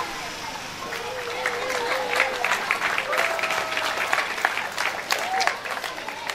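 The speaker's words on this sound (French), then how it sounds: "un tournée d'applaudissement pour vous" A crowd at a school excellence ceremony in Bertoua claps steadily for several seconds, dense and lively, while a voice or two calls out over the clapping.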